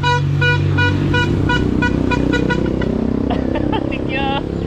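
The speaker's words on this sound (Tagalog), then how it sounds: "sakay itong putpot na tricycle" A putpot motorized tricycle in Asuncion, Philippines, with its engine chugging loudly up close and repeated horn toots in quick succession over the rumble.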